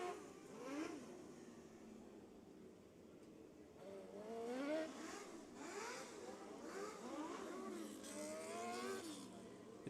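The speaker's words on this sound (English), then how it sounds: "a few guys revving up the engine, really seeing how much grip they're going to get" Micro sprint race car engines rev at Rush County Fairgrounds during a night event, heard faint and distant as repeated rising and falling whines over a steady background murmur.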